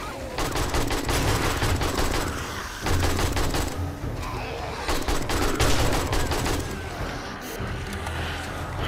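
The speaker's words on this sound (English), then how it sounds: "This shotgun actually does something." Gunfire in the survival video game 7 Days to Die, a shotgun and other weapons firing in rapid, dense bursts during a horde attack on a base, loud and continuous with brief lulls.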